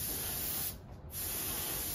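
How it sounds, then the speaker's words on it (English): A continuous aerosol spray hisses close and loud as a gun barrel is painted red, with a brief break in the spraying midway before it resumes. "A sprayed barrel in red."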